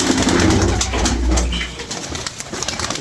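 Pigeons coo in low, rumbling throaty calls up close, the cooing loud at first then fading into a softer background murmur.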